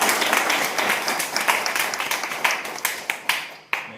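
A church congregation gives a loud, dense round of applause during a Sunday service, claps crackling steadily for about three seconds before thinning out into a few scattered final claps.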